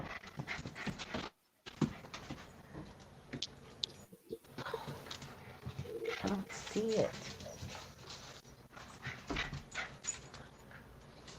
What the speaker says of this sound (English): Let me find out what my dogs are going crazy over.